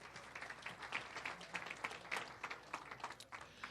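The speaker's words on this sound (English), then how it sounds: "Let's give her a nice round of applause." An audience gives a round of applause in a class or lecture setting, fairly faint and a little distant, with individual claps standing out from a loose, uneven patter.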